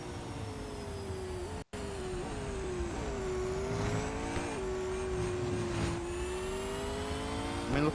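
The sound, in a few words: race car engine in video game Real Racing 3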